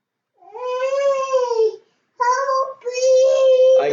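A cat lets out loud, drawn-out meows close by, one long wavering yowl, a brief pause, then two more plaintive cries running together, with no other voices underneath.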